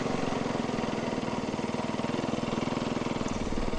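A snowbike engine runs steadily at idle with a rapid, even putter, close by and alone, holding a constant level throughout.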